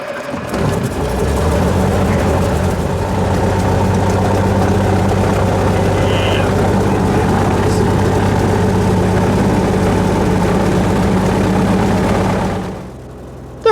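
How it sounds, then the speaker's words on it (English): A Cessna 172 airplane engine drones steadily and loudly at close range, a constant low roar that holds for about twelve seconds and then drops away at the end. "There goes Randall and three of his buddies, just a little bit ahead of us in a Cessna 172"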